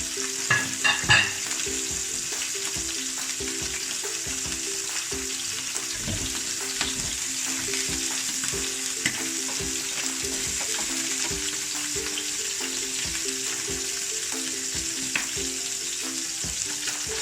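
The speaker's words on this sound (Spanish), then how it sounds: "Mientras estamos salteando" Prawns sautéing in a pan for seafood paella, a constant close sizzle and hiss with repeated scraping and stirring knocks from a utensil, no talking.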